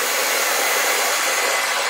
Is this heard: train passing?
no